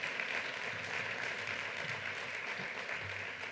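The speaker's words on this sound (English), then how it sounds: "Let's give a round of applause to Ellen Futterman," Crowd at a New York tourism press event applauds for the president of the Museum of New York History, a continuous wash of many hands clapping at steady loudness throughout.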